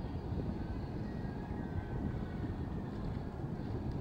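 Rough sea on a windy day off Imoque Island pounds in a continuous low roar, loud, dense surf and wind rumble with no voices.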